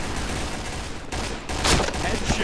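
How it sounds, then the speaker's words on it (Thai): Rapid gunfire from a weapon in the video game Point Blank, a dense, loud burst of overlapping shots lasting a couple of seconds. "เอาปืนนี้ยิงก่อนใจเย็น"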